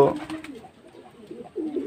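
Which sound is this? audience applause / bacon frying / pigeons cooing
pigeons cooing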